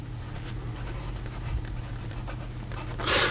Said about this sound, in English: here we go with the writing sample for the Keras Pen Company, and this is the Decograph